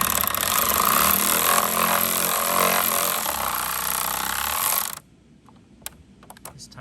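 An 8 mm screw being tightened on a 2021 Ford F-150 grille, a steady whirring, ratcheting power-driver run lasting about five seconds, then cutting off abruptly, followed by a few faint clicks and near silence.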